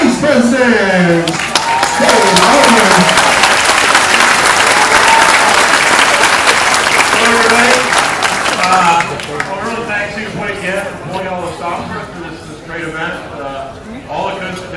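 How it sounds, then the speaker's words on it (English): A conference audience claps loudly for the ACE president, a dense burst of applause that fades after several seconds as voices and chatter take over. "give a clap for our ace president"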